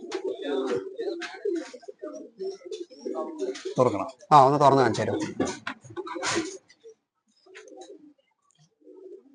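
Caged pigeons and their chicks coo softly in a loft, the low murmuring mixed beneath close conversation among several people, with one louder burst of voices midway and quieter stretches toward the end.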